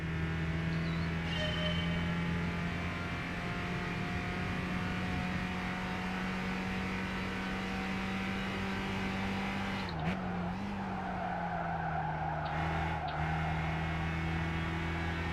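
A race car engine in Gran Turismo 5 drones steadily at high revs for the whole stretch, with a brief dip and wobble as the throttle is eased off and reapplied near the end. No voices are heard.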